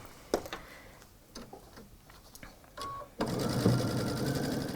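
A Brother Innov-is XV sewing machine stitches a zigzag around a fabric cushion, first a few scattered clicks and ticks, then a steady close mechanical whirr of rapid stitching in the final seconds.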